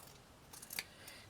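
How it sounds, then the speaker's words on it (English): Scissors snip through felt for a Christmas star decoration, a few quiet close cuts building to one sharper snip, with no voices. "I just cut to that point,"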